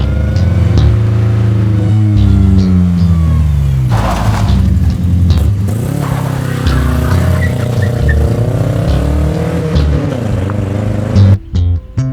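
A 1991 Mazda 323 hatchback is driven hard, its engine revving up and down loudly through repeated gear changes with bumps and thuds, close and continuous before a brief drop near the end.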